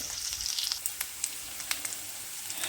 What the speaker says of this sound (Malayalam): ഉള്ളി ഒന്ന് ചെറുതായിട്ട് വഴന്ന് വരട്ടെ